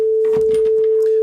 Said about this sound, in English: So that's our sine wave.